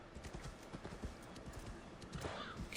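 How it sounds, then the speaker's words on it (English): A horse's hooves clip-clop in Assassin's Creed Valhalla, a quick regular trot of close, crisp hoof strikes continuing throughout, with a short burst of other game noise near the end. "I suppose you're a horse."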